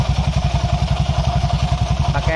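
A Honda Vario 150 scooter engine idles with its drum-style exhaust outlet covered by hand, giving a loud, close, rhythmic pulsing throb with a slightly rough, uneven running note.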